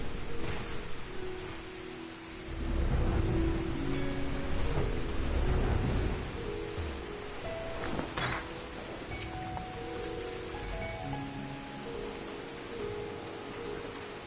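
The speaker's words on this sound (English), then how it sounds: "God, it's raining." Steady rain in the video game Final Fantasy XIV hisses and patters throughout, with a low rumble swelling midway, like a stormy downpour; no voices.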